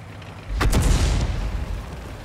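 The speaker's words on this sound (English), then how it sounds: "Artillery's going for me." An artillery shell explodes close to a tank in World of Tanks with a single sharp, heavy boom. The deep rumble rolls on afterward and slowly tails off.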